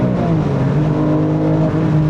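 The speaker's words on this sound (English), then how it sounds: "There's nothing like a Porsche naturally aspirated flat six." A modified Porsche 996 GT3 track car with a naturally aspirated flat-six engine drones loud and steady, a sustained near engine note with a slight rise in revs and no talking.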